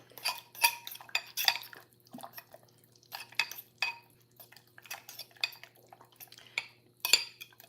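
A fork stirs food in a dish, giving a string of irregular light metallic clinks and scrapes, close and fairly quiet, with short pauses between bursts.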